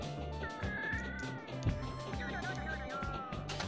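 A cat meows repeatedly in a video game, its drawn-out, wavering cries sitting over a steady, pulsing background music loop.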